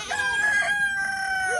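Backyard homestead chickens with a rooster crowing, one long drawn-out cock-a-doodle-doo over a bed of clucking hens, close and fairly loud throughout.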